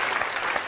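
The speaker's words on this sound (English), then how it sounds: "a round of applause for Mum" A studio audience at a televised music show breaks into applause, a brief dense burst of clapping heard alone.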